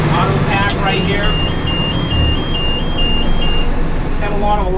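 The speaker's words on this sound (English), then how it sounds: "It's got a lot of alarms and bells and whistles on it," A brand-new AutoCar garbage truck sounding a high, stepped electronic beeping alarm over a loud idling engine, while someone talks throughout.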